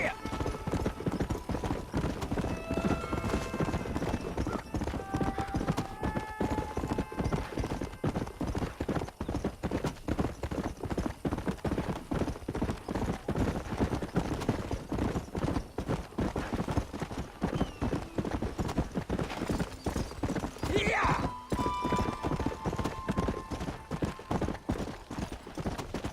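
A horse gallops steadily in Red Dead Redemption, with rapid rhythmic hoofbeats close by throughout. A brief whinny cuts in partway through, and voices speak over the pounding.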